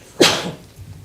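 A single sharp sneeze bursts out at a town council meeting, close and fairly loud, followed by quiet room noise.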